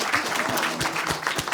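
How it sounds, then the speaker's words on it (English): Brief burst of audience applause at a 2024 industry panel event, steady clapping from a room of people with no talking over it. "Can we give Lou a little round of applause?"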